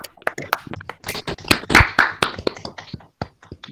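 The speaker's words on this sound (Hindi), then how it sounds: "ये एक बार सब लोग अनम्यूट करके ताली बजा दो।" Participants in an online class unmute and clap together, giving a ragged, uneven burst of sharp hand claps from several people at once, some near and some thin and compressed, without any talk.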